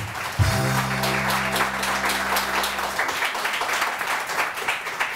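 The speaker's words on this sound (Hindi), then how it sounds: "ऑडियंस अब तालियां बजा के बताएंगे कितना फर्क है" Studio audience on a Pakistani morning TV show breaks into steady applause, a broad wash of many hands clapping that holds evenly throughout, with a brief low tonal hum in the first few seconds.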